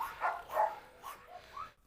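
A Rottweiler gives a few short, faint barks and yelps in quick succession, heard from a distance in a quiet setting.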